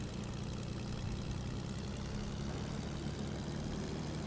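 A Fortnite airplane engine holds a steady, loud low drone with a propeller-like hum, unbroken and without talk throughout.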